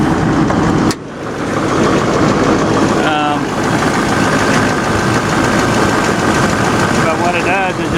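A truck engine idling steadily close by, a loud continuous low rumble with a brief dip near the start and a few faint squeaks over the top.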